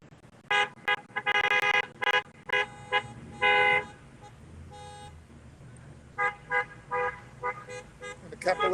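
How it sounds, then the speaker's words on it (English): Car horns honking at a rolling car show at dusk, a series of short toots and longer blasts from several vehicles, some overlapping, over low traffic rumble and crowd noise. "Great to hear those car horns honking and people having a great time there, Rick."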